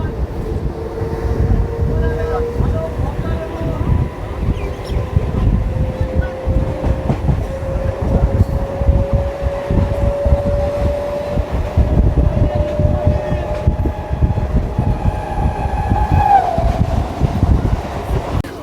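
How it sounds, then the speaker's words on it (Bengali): Passenger train pulling out of Taherpur station on the Krishnanagar to Ranaghat line, heard from on board: a steady rumble and wheel clatter with a slowly rising motor whine as it gathers speed. "তাহেরপুর ছেড়ে আমাদের ট্রেন বেরিয়ে যাচ্ছে এই মুহূর্তে।"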